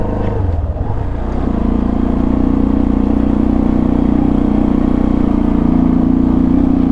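A four-year-old Sonlink SL 150KD motorcycle engine runs at a steady idle after a brief blip, a close, even mid-pitched thrum with a slight clatter and no talking.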